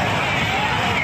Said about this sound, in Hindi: मेले में जबरदस्त भीड़ है